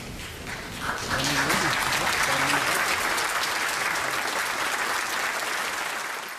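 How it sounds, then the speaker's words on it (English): Sustained applause from MPs in the House of Commons after heartfelt tributes to a murdered fellow MP, starting quietly and then swelling into a steady, dense roar of clapping that continues for several seconds with faint voices underneath. "spontaneous applause there at the end of all those heartfelt tributes from MPs"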